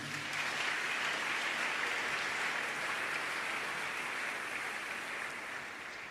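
Church congregation applauding to acclaim the Lord, a dense, steady wash of clapping from many hands that fills the room and fades slightly at the end, with no voice above it.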